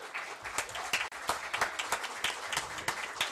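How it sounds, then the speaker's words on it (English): An audience applauds a senior volunteer at a gathering, with steady, close clapping from many hands and sharp individual claps standing out in an uneven rhythm. "let's give him a great applause"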